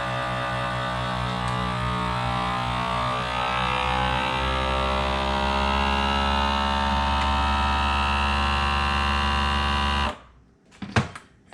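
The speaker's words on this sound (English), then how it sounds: "Take it over to my vacuum sealer and go ahead and vacuum seal it." A vacuum sealer runs on a bag of seasoned fish with green onions in an OUTOFAIR bag. Its motor drones steadily and loudly for about ten seconds, then cuts off, followed by a few brief clicks.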